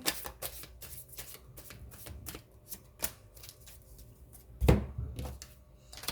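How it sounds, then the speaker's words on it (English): Tarot cards are shuffled close up in a series of quick riffles and taps, with one louder snap near the end. "one more shuffle."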